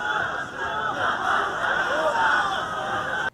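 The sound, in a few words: crowd of angry protesters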